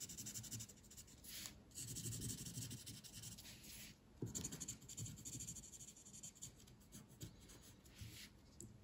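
Pencil scratching and rubbing across paper while colouring in a drawn triangle, a steady close-up scribbling texture with short pauses, faint and continuous.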